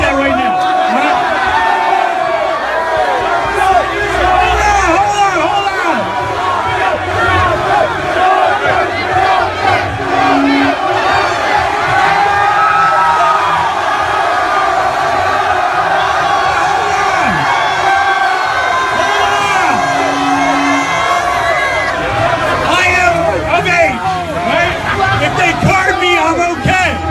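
A football crowd at the Alley at Rutgers, dense loud hubbub of many voices shouting and cheering continuously, with an amplified voice addressing them over the din throughout.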